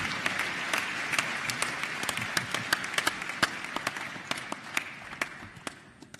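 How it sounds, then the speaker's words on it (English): Conference attendees at the Youth Connekt Africa Summit 2017 clap as a crowd, a busy patter of many hands that thins out and fades toward the end. "Let's give you another round of applause, ladies and gentlemen."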